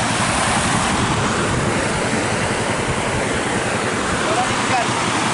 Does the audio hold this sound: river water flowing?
yes